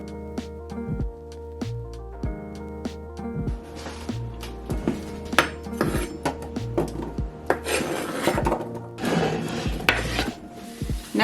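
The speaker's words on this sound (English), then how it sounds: "I'm just gonna dice them into about 1-inch cubes" Knife dicing peeled potatoes into roughly one-inch cubes on a board, a steady series of close, sharp chops and scraping taps, quiet with no one talking.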